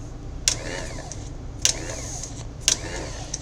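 A starter motor from a 1994 MTD 12/36 riding mower, bench-tested with jumper leads, gives three short whirring spins about a second apart, each a brief rising whine over a low hum.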